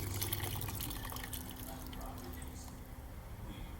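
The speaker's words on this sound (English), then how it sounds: "Now I wash them." Rakkyo bulbs are washed in water at close range, with a steady dripping, splashing and sloshing wash sound and faint background hum.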